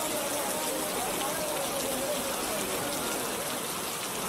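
Steady, dense rain falls throughout an animated cartoon scene on a rainy day, a continuous even wash of drops hitting surfaces with no clear breaks.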